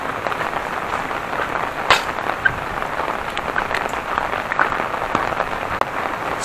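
Steady rain pours down outside during a typhoon in the Manila area, a dense, even hiss of drops on surfaces with a few louder splats and knocks, close and constant with no talking.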